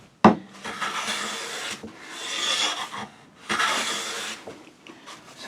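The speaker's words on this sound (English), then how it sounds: "well, we're clearly taking a very thick shaving here, so let's just bring that shaving width back a bit" A Luban hand plane shaves thick curls off a wooden board in three long, close rasping strokes separated by short pauses, with a sharp knock at the start of the first stroke.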